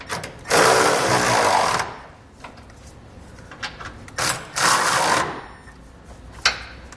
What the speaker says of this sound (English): now we'll go ahead and snug up our two bolts which hold the bracket to the frame